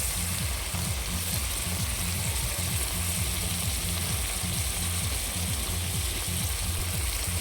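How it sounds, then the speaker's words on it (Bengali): Cauliflower curry spices fry in oil with a splash of water added, giving a steady, close, continuous sizzle and hiss that holds at even loudness throughout. "হালকা একটু জল দিয়ে দেবো।"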